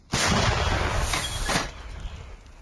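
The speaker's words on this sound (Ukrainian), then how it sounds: "Постріл!" A single heavy artillery blast booms out, loud and close, followed by a rumbling echo that slowly fades.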